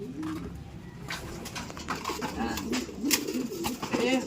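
Pigeons coo repeatedly in soft, throaty bursts, close by, over a steady background murmur.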